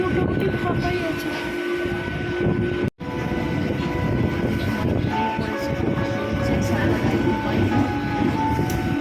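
Inside a fairly empty train carriage as it pulls away, a steady rumbling rattle of wheels and car body runs throughout with one brief dropout, and faint voices sit under the noise.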